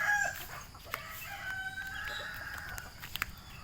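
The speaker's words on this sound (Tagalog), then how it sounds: "Dito tayo sa pinakamalaking manok." A large rooster of roughly five kilos, kept among bantams and other chickens, crows with a long drawn-out call over faint farmyard background noise, and a few brief clucks follow near the end.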